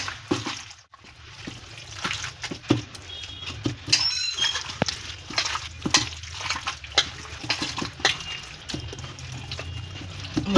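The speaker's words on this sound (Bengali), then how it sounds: "এবার আমি সুন্দর করে মেখে নেব।" Biryani chicken being mixed by hand with sour yogurt, making wet, squelchy, irregular squishing and slapping sounds close up, with no voices.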